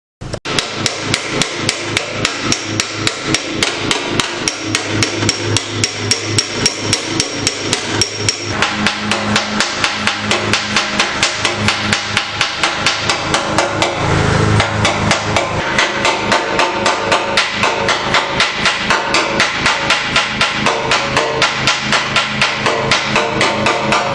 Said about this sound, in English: It's a little hammer and dolly work.